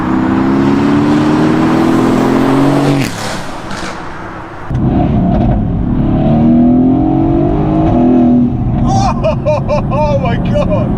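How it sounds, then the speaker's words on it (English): A Renntech-tuned Mercedes-AMG GT S engine revs up through the range twice, loud and close, with rising tones, a brief drop between pulls and a voice talking over the end. "you build the noise up the rev range"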